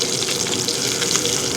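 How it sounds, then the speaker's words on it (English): Pierogies fry in a pan with bacon and pork juices, giving a steady, dense, close sizzle that holds unbroken for the whole moment. "heat up our pierogies with all this bacon and pork juices"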